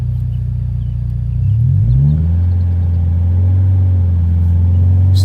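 A supercharged Scion FR-S idles and then pulls away in first gear, its engine note rising from a low rumble into a steady, loud drone close by, with no talk.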